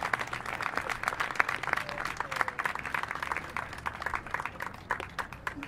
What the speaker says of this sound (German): Extra Applaus für Martin Sievert, bitte